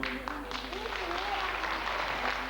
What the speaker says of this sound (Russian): Аплодисменты бабушке, которой сегодня день рождения